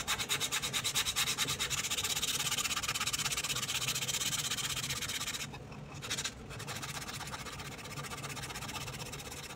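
Sandpaper rubbed back and forth over a blackened metal part of a small robot build, steady rapid scratchy strokes heard close up, with a short pause near the middle before the rubbing resumes, no talk.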